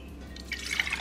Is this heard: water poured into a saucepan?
yes